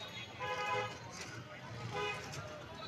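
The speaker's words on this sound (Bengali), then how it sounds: "রিক্সা, অটো বিভিন্ন কিছু পাস হচ্ছে ওই পাশ দিয়ে" Midday road traffic at the Rajbari railway gate in Bangladesh, with rickshaws, autos, vans and motorcycles passing. Two horn toots sound at moderate distance over a steady traffic murmur, and faint voices can be heard.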